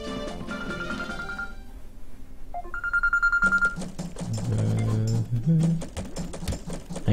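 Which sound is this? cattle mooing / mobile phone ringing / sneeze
mobile phone ringing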